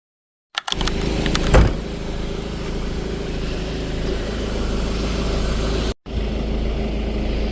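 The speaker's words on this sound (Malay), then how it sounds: "Oh, kita tengah panaskan enjin." Car engine idling while warming up, a steady low hum that starts with a click and runs evenly for several seconds, briefly cutting out near the end before resuming.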